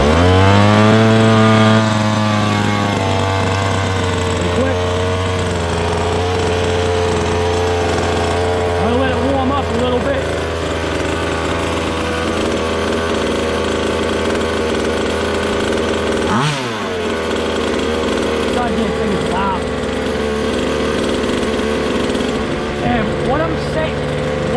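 A 1:5 scale RC car engine cranks and fires, then runs loud and close with a steady, rough buzzing drone whose pitch wavers and dips briefly before settling again.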